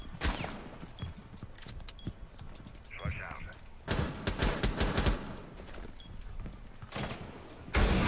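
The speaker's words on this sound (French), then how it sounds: "Ah, ça tire par ce mur." Gunfire comes through a wall in a Rainbow Six Siege match, heard as scattered sharp pops and bursts behind a busy mix of game noise and clicking, while people talk over it.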